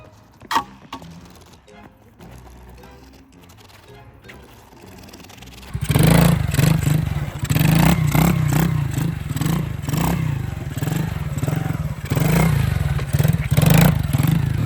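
A Yamaha TT-R 125 enduro motorcycle engine starts up loudly partway through and runs with a steady, rough idle and revs, after a quieter stretch of faint clatter.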